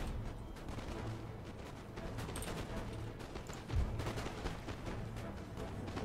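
Canister shot artillery firing in an Empire Total War battle, with a dense rumble of distant gunfire and one louder boom standing out midway.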